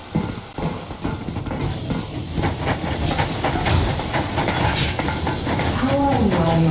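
A steam locomotive in the Metro Exodus video game pulls away, with a steady hiss of steam building under a rolling rumble and faint rail clatter, rising gradually in loudness with no speech over it.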